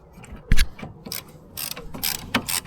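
A ratchet tightens a brake caliper bolt on a 2007 Renault Clio, giving a series of close, sharp clicking strokes in an irregular rhythm.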